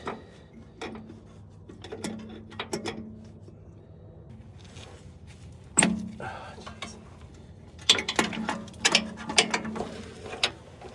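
A hand ratchet works bolts loose from the starter of a 2015 Ford F-150: quick bursts of metallic clicking come in short spurts separated by pauses, fairly quiet and close, with faint clinks of tools.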